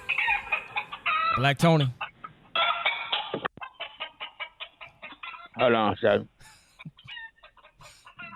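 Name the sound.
chickens clucking in the background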